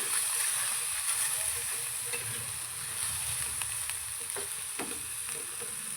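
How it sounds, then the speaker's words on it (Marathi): Ginger, garlic and tomato roasting in a hot pan for chutney give off a steady, loud, hissing sizzle that runs unbroken throughout, with faint stirring scrapes underneath. "आणि अर्धा इंच अद्रक हे सगळं व्यवस्थित भाजून घ्यायचं आहे आपल्याला आधी"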